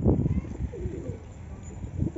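Soft, repeated cooing of Teddy pigeons close by, with low murmuring throughout.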